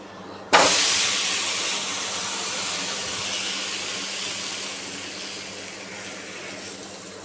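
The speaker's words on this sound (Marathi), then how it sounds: "मी सगळे थालीपीठ जे आहेत ते थापून घेते आणि शेकून घेते" Thalipeeth flatbread roasting on a hot griddle gives a sudden loud sizzle that begins abruptly, then settles into a continuous hiss that slowly fades.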